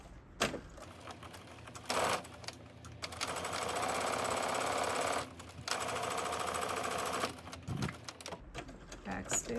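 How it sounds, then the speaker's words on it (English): A sewing machine edge stitching the top of a jumpsuit pocket: a close, steady mechanical whirr that runs in long bursts with brief pauses between them, with a few clicks around the runs. "you're going to stitch the top of the pocket down using an edge stitch 1/8 of an inch from"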